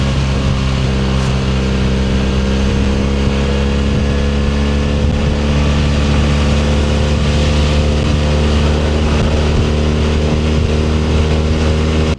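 A BMW R1300RS sports tourer's boxer engine drones in a continuous, loud, even hum while the motorcycle is under way, with no voices.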